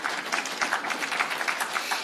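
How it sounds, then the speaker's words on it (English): A crowd claps steadily at a judiciary report unveiling, a continuous, fairly distant wash of many hands with no break over the short span. "I think you need to applaud that."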